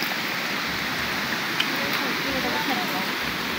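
Water flowing steadily at a spring in Sitio Marabo, Barangay Mambaroto, a continuous close rushing wash with no breaks, while a voice talks over it.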